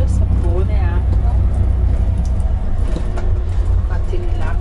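Steady low engine rumble and road drone fill the inside of a moving coach bus with an onboard toilet, while someone talks continuously over it.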